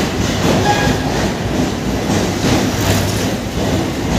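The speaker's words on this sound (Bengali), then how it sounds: "এই উপর দিয়ে ট্রেন যাচ্ছে পুরো আমার মাথার উপর দিয়ে, সে খুবই আওয়াজ হচ্ছে, ভয়ঙ্কর আওয়াজ" A train passes directly overhead, producing a loud, continuous rumble with rhythmic clatter and a dull metallic roar that stays close and unbroken, with no talking.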